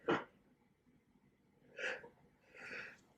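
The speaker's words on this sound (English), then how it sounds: "I have to sneeze one moment" A woman sneezes three times over about three seconds, one sharp close burst followed by two more breathy ones a little apart, with a quiet room and no talking between them.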